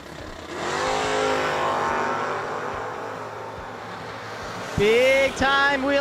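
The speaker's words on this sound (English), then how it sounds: "Big time wheelie action out of Troy Ross" Drag racing cars launching hard at World Wide Technology Raceway, one wheelying off the line; loud engines rev and roar with rising pitch, then a second sharp high-revving blast near the end, all heard at close range.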